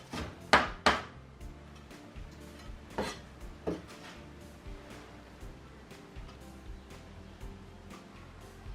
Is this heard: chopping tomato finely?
yes